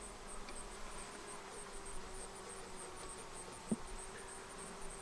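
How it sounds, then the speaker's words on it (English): Honey bees buzzing softly around an open Langstroth hive during an inspection, a faint steady hum with a brief louder knock partway through. "I suspect those are nurse bees because they didn't want to fly at all"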